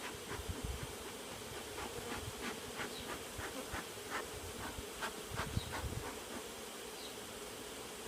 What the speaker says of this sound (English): they're all swarming on the top there